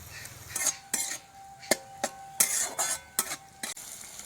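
Chopped tomato is stirred in a frying pan, mostly a string of close metallic clinks and scrapes of a spoon against the pan, with only a faint sizzle between strokes.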